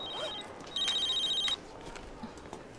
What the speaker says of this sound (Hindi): फोन बज रहा है।